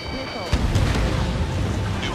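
A missile fires from a JAS 39 Gripen fighter in the combat flight game Ace Combat 7: Skies Unknown, a sharp boom rolling into a roaring rush that stays loud under a voice on the radio.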